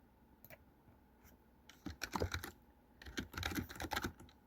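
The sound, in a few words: typing on a small quiet computer keyboard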